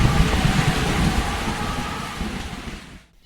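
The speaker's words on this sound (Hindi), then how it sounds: "आधी रात को अचानक मौसम बिगड़ने लगता है और बारिश आ जाती है।" Steady, dense rainfall pours down at night with a low rumbling undertone, loud and continuous, then cuts off abruptly near the end.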